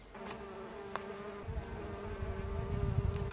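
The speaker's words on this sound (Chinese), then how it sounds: "现在听得到这个油菜花里面那个蜜蜂，嗡嗡嗡嗡嗡嗡嗡嗡嗡嗡嗡嗡嗡的在采蜜" Bees buzz steadily among rapeseed flowers while gathering nectar outdoors, a continuous close drone with a low rumble of wind or handling noise rising partway through.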